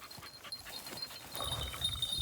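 A dog pants quickly and softly nearby, short rhythmic breaths with a faint whimper.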